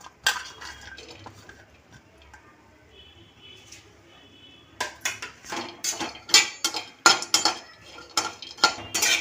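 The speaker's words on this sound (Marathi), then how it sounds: "आता आपण हे सुकं खोबरं भाजून घेणार आहे" Dry coconut roasting in a pan for a Kolhapuri chicken thali masala, a spatula scraping and clinking against the metal. Quiet at first, then a close run of quick, uneven stirring strokes.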